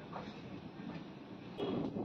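A passenger train pulling out of Bhimavaram, a faint steady rolling rumble of carriages that grows slightly louder near the end, with no talk.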